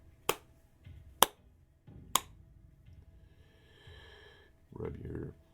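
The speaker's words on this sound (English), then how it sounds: "3 claps of your hands." Three sharp hand claps spaced about a second apart in a quiet room, each a crisp broadband crack, followed by soft breathing and low rustling.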